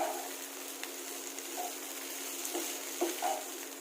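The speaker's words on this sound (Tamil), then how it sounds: "நம்ம ஒரு தடவை வந்து மிக்ஸ் பண்ணி விட்டுக்கலாம்" Ivy gourd (kovakkai) fry is stirred in a pan, giving a soft, steady sizzle with a few faint scraping strokes of the spoon, quiet and close, with no voices.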